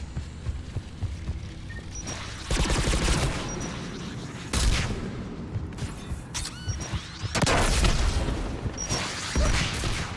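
Gunfire and rocket blasts fill a Mass Effect 3 combat scene, with bursts of shots and several heavy booming impacts arriving at irregular moments over a constant low rumble.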